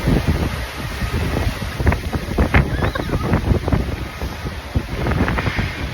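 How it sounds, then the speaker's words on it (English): Strong gusts buffet the microphone in rough, uneven bursts, with a steady roaring wind throughout, at a cruise port in Miami. "it's a little bit windy."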